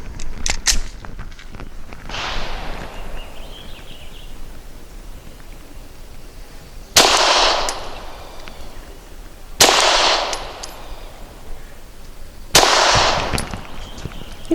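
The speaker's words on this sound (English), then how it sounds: "for circle number 10, I'm going to be shooting the PPU Subsonic 158 grain." Pistol shots from a Canik TP9 firing PPU Subsonic 158 grain ammunition, several sharp reports spaced a few seconds apart: a quick cluster early on, then three loud single shots, each ringing out against an outdoor range background.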